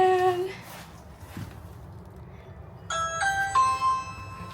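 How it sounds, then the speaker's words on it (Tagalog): A house doorbell chimes near the end with a clear multi-tone ding-dong, after a quiet stretch of low background rumble and a faint earlier tone. "dito magda-doorbell lang tayo"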